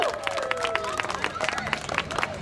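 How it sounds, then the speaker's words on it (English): Crowd at an outdoor march against rent increases gives a round of applause, scattered claps and cheers mixed with voices and general chatter, moderately close. "big round of applause"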